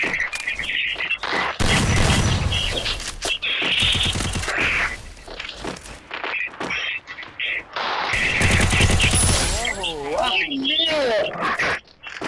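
A shooting video game match sounds out in rapid bursts of gunfire, repeated volleys and booms close in the mix, with players talking excitedly over the shots throughout.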